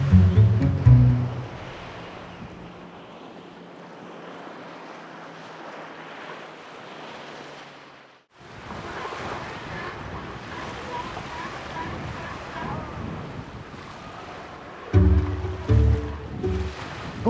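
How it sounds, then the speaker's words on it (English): Ocean waves wash onto a sandy beach on the Galápagos (Enchanted Islands), a steady surf roar with wind, a brief near-silent gap midway, and louder bumps near the start and end. "the sound of the waves"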